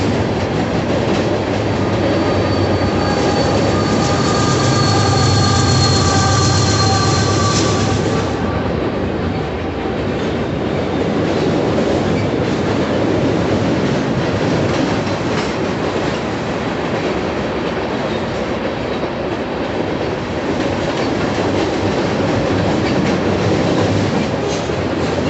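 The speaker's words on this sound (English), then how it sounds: "train DPU coming up." A Norfolk Southern maintenance-of-way train with a distributed power locomotive rumbles past continuously at close range with rhythmic clattering wheels, a high squeal fading early on, and no voices.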